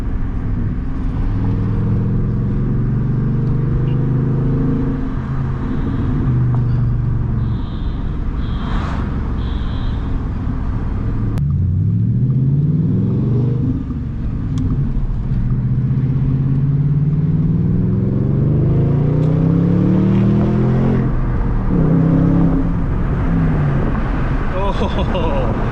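Car engine in a muffler-delete car pulls and revs up and down through the gears, its rising and falling harmonic sweeps loud and close throughout, with popping overrun crackle hinted between pulls and someone talking over it.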